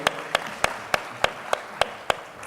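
A plenary-session audience claps for a speaker. The crisp claps come at an even rhythm about every third of a second, fairly close, over a faint room hum with no talk.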